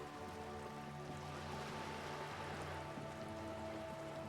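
Steady rain pours over the city of Revachol in Disco Elysium, a dense continuous patter under a low tonal drone of game ambience, with no voices.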